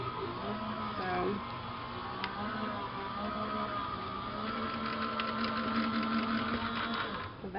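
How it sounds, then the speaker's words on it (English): A die cutting machine runs with a steady mechanical whir and grinding hum as cutting dies pass through it, close and continuous with faint clicks and squeaks throughout. "that just put my die cutting machine through it, didn't it?"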